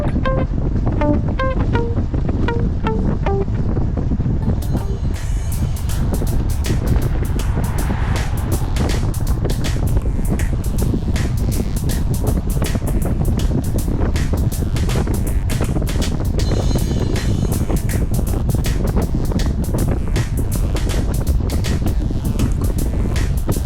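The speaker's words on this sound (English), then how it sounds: "Now we're going directly into the north wind." A strong, cold north wind roars steadily against the microphone of a cyclist riding straight into it, loud and unbroken for the whole stretch, with no talking.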